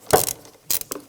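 Ratchet with a 10mm socket loosening a bolt on a throttle cable bracket of a 1996-2002 Toyota 4Runner engine, heard as three short bursts of close, crisp pawl clicking separated by brief pauses.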